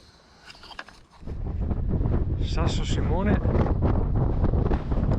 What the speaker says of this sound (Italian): si è alzato un po' il vento